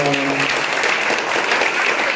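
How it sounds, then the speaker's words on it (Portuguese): Warm applause from the congregation at a baptism mass, dense steady clapping filling the church for about two seconds, with a brief sung tone at the start. "Uma calorosa salva de palmas para Manuela, nova batizada."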